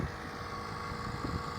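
A Mercedes GL450 air suspension pump drones steadily at the front of the vehicle, a faint, even hum with a low whine and a slight whooshing hiss, no speech over it.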